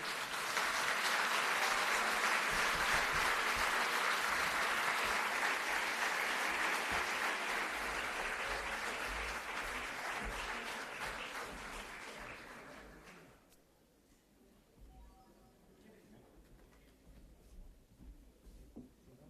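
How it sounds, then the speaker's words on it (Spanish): An auditorium audience in Chile gives a long, loud welcoming ovation for Humberto Maturana before a lecture, dense clapping filling the room for about thirteen seconds, then fading to quiet room noise. "pedimos un fuerte aplauso de bienvenida para él"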